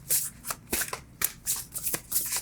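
Tarot cards are shuffled by hand in a quick series of crisp, papery slaps and riffles, about eight close bursts in an uneven rhythm with no talk.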